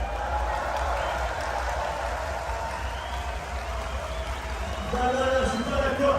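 A dense, steady patter of applause rises from a large audience at an outdoor rap festival concert, and scattered shouts and voices come through as it swells near the end.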